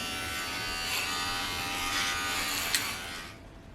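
Electric hair clippers buzz steadily and close up while shaving off the last of someone's hair, the hum wavering slightly as the blades pass through, then trailing off at the end.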